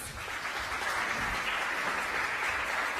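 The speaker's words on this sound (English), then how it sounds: "Let's give them another round of applause" A dense, continuous wash of clapping from a large crowd at the 2018 Liftoff Houston startup pitch competition, sustained and fairly loud throughout.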